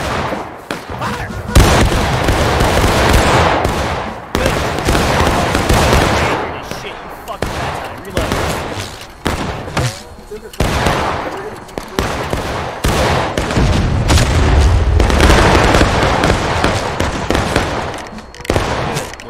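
Musket volleys crack out in the Civil War battle game War of Rights, sharp broadband bursts of gunfire scattered through a dense, loud battlefield din, with shouted commands and voices over the shooting.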